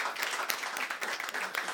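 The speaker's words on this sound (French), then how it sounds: "On applaudit encore pour la sœur." A faint audience applauding for a nun at a live gathering, scattered, uneven hand claps heard from a distance, steady for a couple of seconds with no talk.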